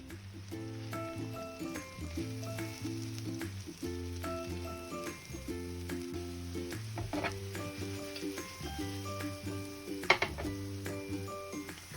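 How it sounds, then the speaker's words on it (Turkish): Steady sizzling of mushrooms frying in butter in a pan, with occasional stirring scrapes, alongside tonal music playing throughout. "Eriyen tereyağın içerisine mantarlarımı ekliyorum ve güzelce pişiriyorum."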